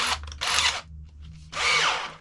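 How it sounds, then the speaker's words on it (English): A battery drill bores into 6mm steel plate in two loud bursts of high whining grind, a quieter pause between them, then a third burst at full strength. "we're going to put it in a battery drill"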